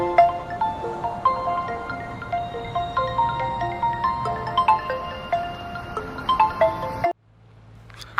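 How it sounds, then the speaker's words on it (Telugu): Mobile phone ringtone for an incoming call, a melodic electronic tune playing in repeating phrases, close and clear, cutting off abruptly near the end into near silence. "వైఫ్ కాల్ చేస్తుంది."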